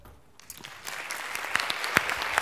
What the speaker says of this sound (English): big round of applause for Jen Sheehan